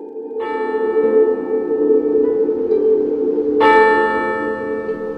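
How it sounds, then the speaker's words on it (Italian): Church bells tolling, a sustained resonant ring that hums steadily and is then renewed by a second loud strike, its overtones decaying slowly with no speech. "Mentre echeggiavano ancora nell'aria i rintocchi delle campane per la condanna di scomunica"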